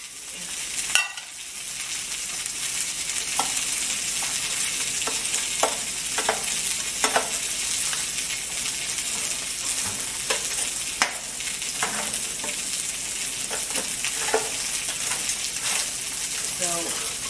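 Potatoes crisping in a frying pan give a steady broadband sizzle, with scattered spatula scrapes and knocks as they are stirred and turned, close by and continuous.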